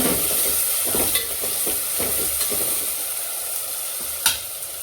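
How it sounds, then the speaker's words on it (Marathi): Spices frying in oil in a pan for a spinach and fenugreek khichdi, giving a steady close sizzle with a few sharp stirring clicks and scrapes throughout, no talking. "आता हे सगळं मी खिचडीमध्ये टाकून देते थोडंसं फ्राय करून घेते तेलामध्ये"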